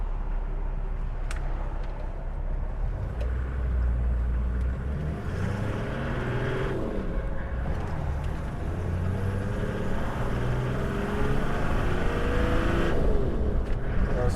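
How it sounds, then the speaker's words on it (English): A 1998 Toyota Land Cruiser HZJ75 driving and accelerating, its engine droning steadily and rising in pitch through the gears, heard continuously from inside the cabin. "there is plenty of power on this car or truck, and easily gets up to 80 miles an hour without any problem"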